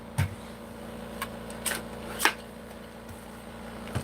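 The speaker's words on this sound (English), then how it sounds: "And then you just get out your trimmer." A paper trimmer slicing through inked, embossed card, a few sharp scraping cuts and clicks spaced unevenly over a quiet background, close with no talk.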